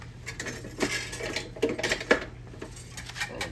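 A whisk clatters and scrapes against a bowl while ham and cheese quiche filling is mixed, irregular close metallic taps and rattles in uneven bursts.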